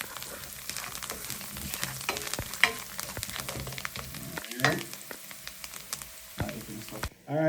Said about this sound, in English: Now we're gonna saute this, guys, just to kind of slowly release the flavor of them garlic and the parsley.